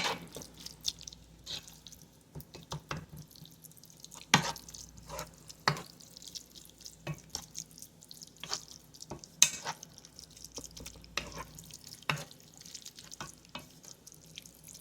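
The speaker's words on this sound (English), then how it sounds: "don't forget to give that a good stir and ensure that all our ingredients are mixing in well" Meat for a burrito bake being stirred in a pan, with quiet scraping and light sizzling plus sharp spoon clinks every second or so, no talking.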